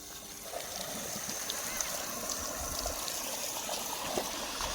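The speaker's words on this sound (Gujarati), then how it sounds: "આપણા ખેતરમાં પાણી વહી જાય છે દોસ્તો" Irrigation water from an electric pump motor gushes steadily into a wheat field on a farm, a continuous close rushing and trickling wash with no pauses.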